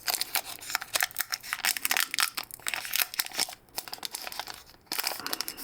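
Pokémon card packs are torn open by hand, giving close, dense crinkling and ripping of foil wrappers in uneven bursts with short pauses.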